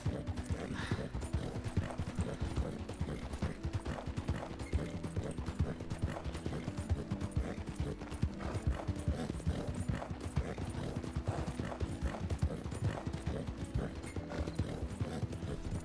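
Horse hooves clip-clopping in a video game, a steady rapid trotting rhythm of close, even clops that carries on throughout with no talk.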